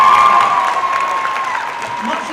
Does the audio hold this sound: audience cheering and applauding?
yes